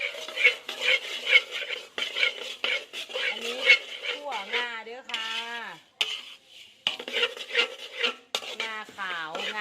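Grains rattle and scrape against an iron pan as they are stirred and roasted, steady and close, with gliding voice-like tones partway through.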